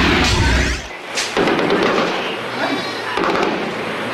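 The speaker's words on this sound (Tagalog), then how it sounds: "Putukan at malalakas na dagundong pa rin ang maririnig sa Datu Saudi Ampatuan, Maguindanao." Sharp gunshots and heavy booming explosions from armed clashes in Datu Saudi Ampatuan, Maguindanao, crack out at irregular intervals, loud and echoing, with a faint voice underneath.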